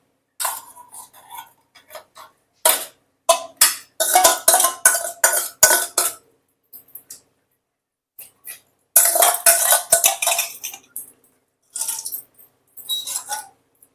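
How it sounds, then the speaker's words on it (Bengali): Marinated hilsa fish is scraped from a bowl into a metal tiffin box, producing bursts of close metallic clinks and scraping clatter separated by short quiet gaps. "এবার একটা টিফিন কৌটোর মধ্যে আমি মাছটাকে ঢেলে দেবো"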